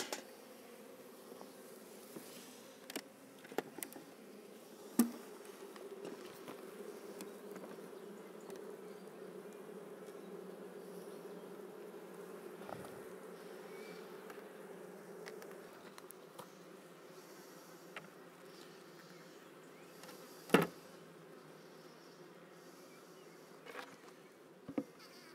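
Honeybees hum in a steady, faint drone around a hive as a super is placed on top, with occasional louder buzzes as individual bees fly close, plus a few soft knocks.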